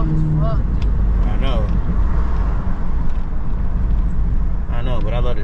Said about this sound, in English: That car is loud as fuck, dude.